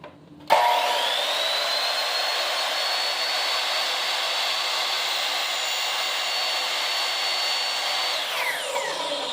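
A power tool cuts a notch into wood trim: a sudden, loud, sustained whine starting after a brief quiet moment and holding steady for about eight seconds before spinning down near the end, with no talking.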